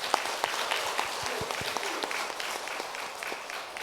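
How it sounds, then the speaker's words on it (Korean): Applause from a church congregation during a Korean Sunday service, a steady wash of clapping that carries on for several seconds at moderate loudness. "감사와 영광의 박수 올려드리겠습니다."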